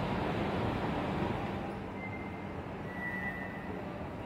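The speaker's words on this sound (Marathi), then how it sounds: "पीसीएमसी वरून आलेली मेट्रो आहे फ्रेंड्स" A Pune Metro train arriving at a station platform, a steady broad rumble that eases slightly as it slows, with faint high whines from the wheels or motors and no voices.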